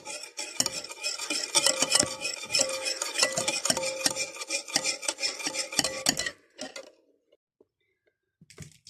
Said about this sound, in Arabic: بعد كده احط الفانيليا عشان البيض، واقلب كويس اوي بالمضرب